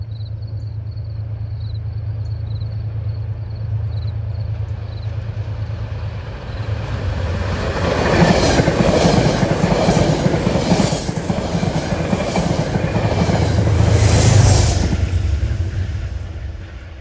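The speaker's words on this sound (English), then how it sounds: "Got some New York bound push-pull equipment by at 509." A New York-bound Metro-North push-pull passenger train passes on the Hudson line beside the water near Scarborough, its rumble swelling from a low hum into a loud, close rush of wheels and rail clatter that stays strong before easing off.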